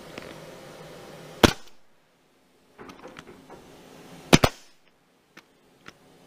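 Pneumatic nail gun driving nails into the corners of a wooden board: a sharp crack, then a quick double shot a few seconds later, each followed by a hiss and clatter of handling, with faint ticks in between.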